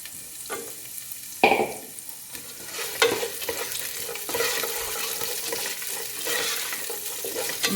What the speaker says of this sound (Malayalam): ഇതിലേക്ക് ഒരു സവാളയെ ഞാൻ ഇടുന്നുള്ളൂ. ഇത് നമുക്കൊന്ന് വഴറ്റിയെടുക്കാം.